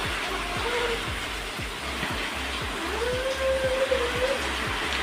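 Steady rain hiss over a household scene, a continuous wash of drops with low rhythmic thumps and a brief voice-like tone in the background.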